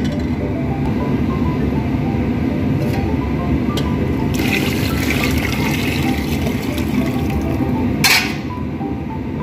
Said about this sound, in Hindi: इसमें 1 लीटर पानी में ऐड कर देता हूँ।